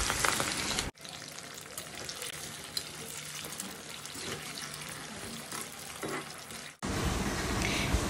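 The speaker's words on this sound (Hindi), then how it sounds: "तो ये रहा आलू जो मैं डाल रही हूँ फ्राई करने के लिए।" Potato pieces fry in hot oil in a pan, giving a steady, moderately loud sizzle for several seconds between louder, brighter bursts at the start and end.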